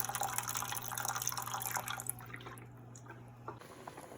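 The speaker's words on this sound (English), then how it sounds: "Add some filtered water to a pot, and I would say just about enough so that your pieces are fully submerged." Filtered water pours into a pot in a quiet indoor setting, a faint trickling splash that thins out and fades partway through.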